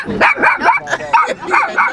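A small dog yaps rapidly up close, with about eight sharp barks coming in a quick, uneven burst.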